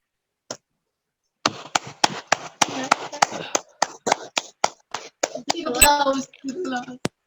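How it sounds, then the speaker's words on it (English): Sparse applause over an online conference call, a handful of separate sharp claps spaced out after a short pause, thin and faint, with a brief voice near the end. "Give applause for Prof Sukree."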